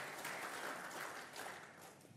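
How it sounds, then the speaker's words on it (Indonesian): Audience applause for the panelists and moderator at a diplomacy panel event, a steady wash of clapping that runs the whole time at fairly low level with no gaps. "Tepuk tangan sekali lagi untuk para panelis dan moderator"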